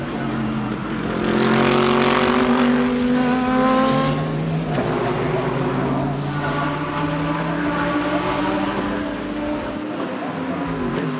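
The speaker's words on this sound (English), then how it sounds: "all 20 cars that started the weekend start the motor race" Race cars at the 2022 Bathurst 12 Hour motor race roar loudly, with several engines rising and falling in pitch as they accelerate and pass, the layered whine continuous and fairly close throughout.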